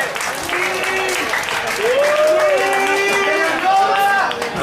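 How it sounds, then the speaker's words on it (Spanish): Audience applause at a lively event in Cancún: steady crowd clapping and cheering, loud and continuous, with voices calling out and shouting over it. "un aplauso para ustedes"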